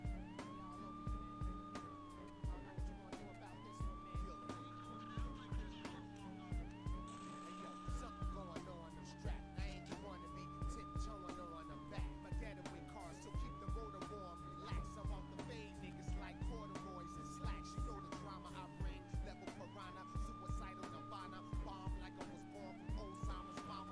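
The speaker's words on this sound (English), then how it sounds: "we're going to use the siren and turn the camera around" A police car siren wails in the True Crime: New York City video game, a steady repeating rise-and-fall cycle heard over driving engine hum, fairly quiet overall and continuous throughout.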